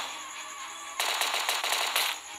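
Rapid automatic gunfire from a zombie-shooting video game erupts after a second of quiet hum, a loud dense burst of shots lasting over a second, no talk.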